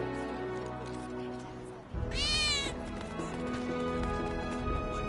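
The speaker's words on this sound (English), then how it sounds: "I think one of Betty's cats might be nearby." In Final Fantasy VII Remake, a cat meows once, a short rising-and-falling cry standing out over a low game background of ambient noise and faint voices.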